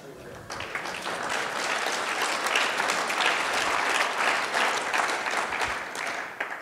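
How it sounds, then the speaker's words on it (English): Audience in a hall clapping at a speech, a steady rattle of many hands that rises quickly and holds for several seconds at moderate loudness before tapering. "Thank you, the five of you that clapped for that."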